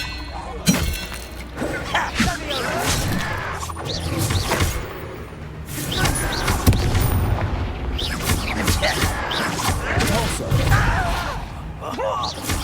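Incendio fire spells in Hogwarts Legacy boom and crackle repeatedly through a chaotic battle, with loud bursts, shattering hits and a deep bellowing voice layered over continuous dense combat noise.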